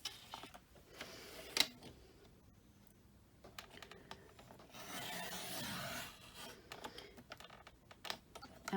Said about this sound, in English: Our Fiskars trimmers, our 12-inch trimmers, are great for stopping and starting wherever you want to.